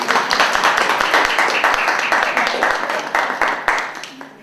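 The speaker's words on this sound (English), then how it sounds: "I need to ask you a big round of applause to the other members of the team" A small audience claps for a university teaching project team, distinct individual claps in a brisk uneven patter, fairly close and fading toward the end.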